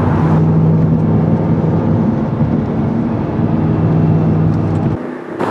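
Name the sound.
Pontiac GTO driving fast on a lap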